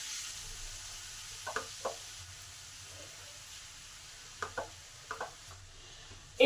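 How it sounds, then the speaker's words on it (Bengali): Washed cabbage goes onto spiced potatoes in a hot pan, giving a faint, steady sizzle broken by a few brief knocks and scrapes of stirring near the middle and end. "এই সময় বাঁধাকপিটা ভালো করে ধোয়া আছে, সেই ধোয়া বাঁধাকপিটা আলুর উপরে দিয়ে দিলাম"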